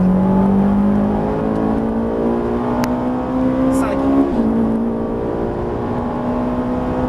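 A Ferrari 458 Italia engine roars at full throttle on the Haute Saintonge circuit, pitch climbing steadily through a gear with a brief drop, loud and close, with a voice calling a number.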